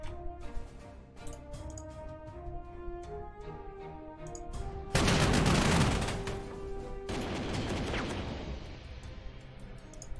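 Anti-aircraft gunfire in the Panzer Corps 2 war strategy game during the Spanish campaign at Brunete: a loud, dense burst of rapid firing breaks in midway over steady background music, then fades into a rumbling tail.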